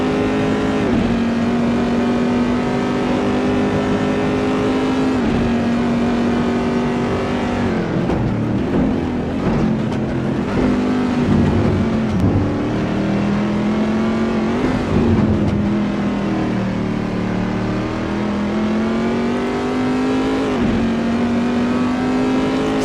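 Race cars lapping Silverstone in a racing video game, a loud continuous engine drone that climbs and drops with gear changes and throttle lifts, close and steady throughout, with no voices.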